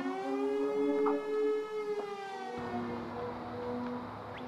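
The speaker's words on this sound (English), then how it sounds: "This is the sound of an ice shelf breaking off Antarctica." An ice shelf breaking off Antarctica gives a wailing, siren-like tone with long sliding harmonic sweeps that rise and fall, sustained and fairly loud with faint crackles, alone.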